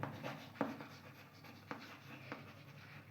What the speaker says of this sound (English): I will write it down here for space